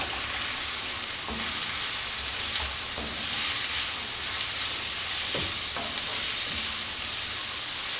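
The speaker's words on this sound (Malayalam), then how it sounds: "രണ്ട് ചെറിയ സവോള ഇതേപോലെ ചെറുതായിട്ട് മുറിച്ചെടുത്തിട്ടുണ്ട് അതും കൂടെ ചേർത്ത് നന്നായിട്ട് വഴറ്റിയെടുക്കാം" Finely chopped small onions sautéing in a pan, a steady close sizzle and hiss with occasional scraping taps of a spoon stirring, no talking.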